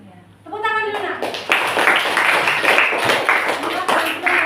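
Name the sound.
children clapping hands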